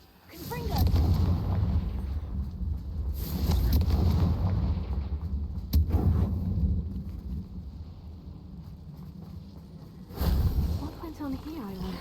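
Confringo fire spell cast in Hogwarts Legacy, several booming explosive blasts with rumbling tails, one sharp crack midway, under game ambience with a voice speaking at times.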